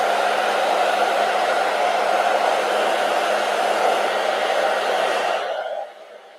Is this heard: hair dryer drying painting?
yes